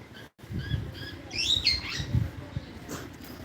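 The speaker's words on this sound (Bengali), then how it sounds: "এখানে আবার বিভিন্ন রকম পাখি রয়েছে" Birds call in a zoo aviary, giving a short burst of bright chirps and squawks over low rustling and background noise, fairly close.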